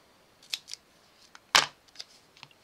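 A few quiet snips of scissors cut a strip of double-sided tape while crafting a pop-up card: two small clicks, then a sharper, louder cut near the middle and a few faint clicks trailing after.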